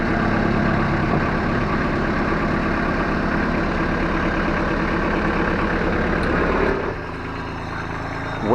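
A compact tool carrier, a Ditch Witch SK800 or Vermeer S925TX, idles close by with a steady, loud diesel rumble. Near the end the engine note drops to a lower, quieter idle.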